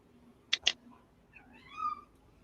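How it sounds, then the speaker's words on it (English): A cat gives two short, sharp meows close together, followed after a pause by a longer, rising, whiny meow, all fairly faint over a quiet room hum. "I'm hearing a cat in my left headphone."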